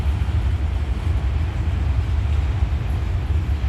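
A train rumbles past at close range, a steady low, heavy roar with grinding rail noise that holds evenly throughout, no voices over it.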